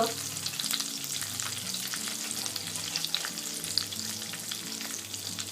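Cumin, crushed ginger and garlic, curry leaves and asafoetida fry in hot oil for a Khandeshi dal-brinjal dish, giving a close, steady sizzle. A spoon stirs and scrapes at intervals over faint background music, with no talking.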